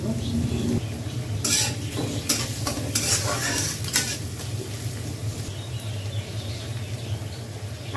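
Dried chilli, green chilli and chopped onion stir-fried into a masala in a pan, a steady sizzle with scraping stirs and a few clinks of the utensil against the pot, no talking.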